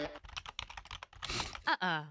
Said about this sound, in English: Control-C not working on your keyboard?